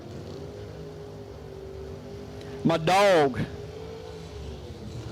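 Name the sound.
drag racing car engine revving at the track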